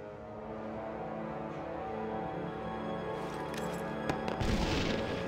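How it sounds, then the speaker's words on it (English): Grenade explosions from an iPad shooter video game burst over a steady low game soundtrack, with a few sharp booms and crackling blasts toward the end. "now you can slide 2 fingers across the screen to throw grenades"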